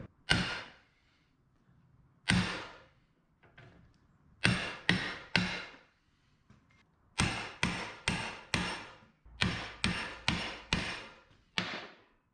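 Sharp metallic hammer blows ring out close by as a suspension part is hammered into place on a 1961 Parkwood wagon, in bursts of several quick strikes with short pauses between groups.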